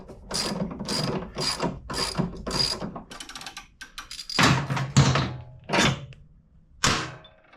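A ratchet with a 19mm socket works a top rear shock bolt loose on a motorcycle during an Öhlins shock upgrade. Close, loud bursts of clicking strokes come in a quick rhythm, followed by a few heavier, spaced clunks and ratchet turns.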